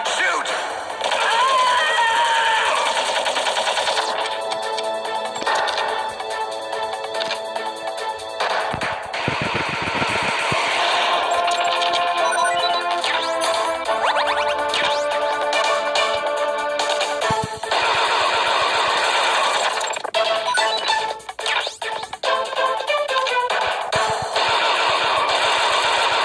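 Gunfire in Metal Gear Solid on the PS1 cracks in rapid bursts and scattered shots over game music and effects, with voices talking at times in between.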